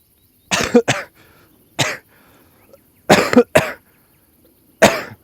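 Several sharp coughs in short bursts, a pair, then one, then a quick pair and a final cough, close and fairly loud with quiet gaps between.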